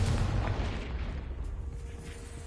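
A Confringo fire spell in the Hogwarts Legacy video game bursts with a loud, close boom and rolling crackle, decaying into a sustained rumble over about two seconds.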